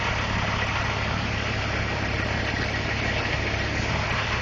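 A truck engine idles steadily at a warehouse loading dock while the driver maneuvers toward a door, a constant loud low rumble with no voices.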